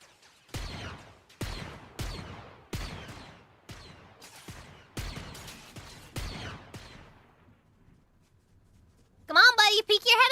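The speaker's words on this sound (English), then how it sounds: "Oh, they're shooting again." Fortnite gunfire: about eight sharp, loud shots spaced roughly a second apart, each with a short decaying tail, then a pause before a burst of high-pitched game effects near the end.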